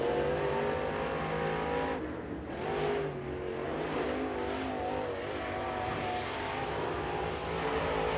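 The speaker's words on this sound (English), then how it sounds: "Next car to qualify, this is the number 50 of Floyd Turner" A crate late model race car runs a qualifying lap at Crossville Speedway, its engine roaring steadily from a distance, with a brief dip in pitch as it passes and then continues at full throttle.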